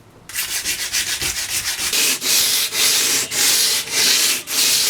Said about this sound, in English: what I'm sandpapering is all of the metal surfaces just to scruff them up